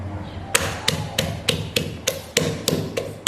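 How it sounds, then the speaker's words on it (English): Pepper is pounded in a mortar and pestle for ora soup, about nine sharp, evenly spaced thuds at a steady rhythm, close and clear with no talk. "So I like to pound it with my mortar and pestle, and I'm pounding my pepper as well."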